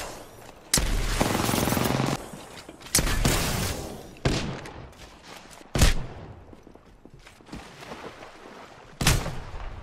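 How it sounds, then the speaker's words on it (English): Loud, close Apex Legends gunfire arrives in several separate bursts, with sustained automatic-weapon volleys and sharp single heavy shots, separated by quieter gaps and no speech. "Getting shot at."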